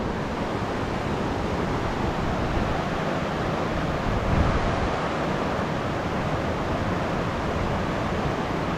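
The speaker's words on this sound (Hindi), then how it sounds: "सिर्फ़ और सिर्फ दोनों नदियों का कलरव सुन रहे हैं हम" Two mountain rivers, the Balganga and the Bhilangana, flow near their meeting point in a strong breeze, a loud, constant rushing roar with no pauses or voices.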